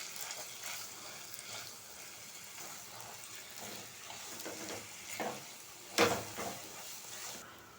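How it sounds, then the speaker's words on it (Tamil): Ground chana dal being stirred into melted ghee in a pan, a soft steady sizzle with scraping stir strokes and a brief sharper clatter near the end, no talking. "இப்போ நம்ம அரைச்சி வச்சு இந்த கடலைப்பருப்பை இந்த நெய்யில் சேர்த்துக்கலாம். இப்போ சேர்த்து நல்லா மிக்ஸ் பண்ணி விட்டுக்கலாம்."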